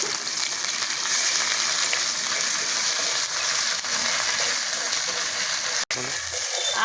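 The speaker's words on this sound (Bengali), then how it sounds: "আদা রসুনটা ভালো করে ভেজে নেব।" Ginger-garlic paste frying with onions in a pan gives a steady, dense sizzle and crackle that runs unbroken, with a brief dropout near the end and no speech.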